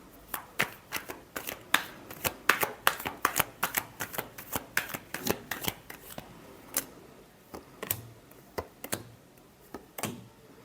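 Tarot cards shuffled by hand, a quick run of crisp riffling snaps and taps in uneven bursts, close and fairly quiet with short pauses between groups, no talking over them.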